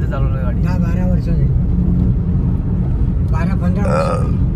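A car cruises along a concrete road in rural Konkan with a steady low rumble of engine and road noise throughout, while people talk inside over it.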